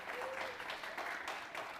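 Audience applause at a live stand-up comedy show in Dallas, a steady wash of many hands clapping throughout, fairly close and continuous with small swells, no talk over it.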